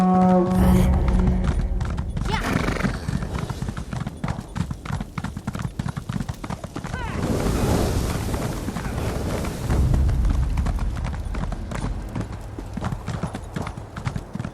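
Horse hooves clip-clop steadily and loudly in The Elder Scrolls Online, with a whinny near the start, rumbling effects mid-way, and dense continuous hoofbeats throughout.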